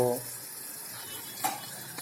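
Bottle gourd frying in a pan at home with tomatoes and peanuts tossed in, a steady close sizzle with a brief clink of a utensil against the pan.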